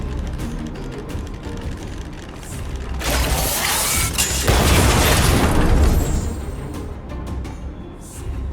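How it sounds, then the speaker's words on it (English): A video game explosion wipes out a group of enemies: a loud, broad roaring burst that swells and lingers for a few seconds over a mechanical, clanking game background, then subsides. "We wiped them all out in a single explosion!"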